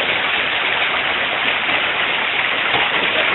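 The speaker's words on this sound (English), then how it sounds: "The hail is making huge splashes in that gutter there" Hail falls on a house in a hailstorm in Shadyside, splashing into a gutter with a loud, steady rushing hiss like heavy rain, close and continuous.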